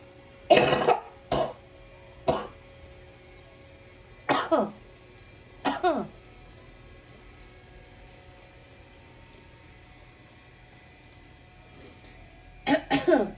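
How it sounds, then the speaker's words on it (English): Several separate coughs and throat-clearing bursts close to the mic, spaced out over a quiet background, with a final cluster of coughs at the end. "I've had a cough that is lingering forever."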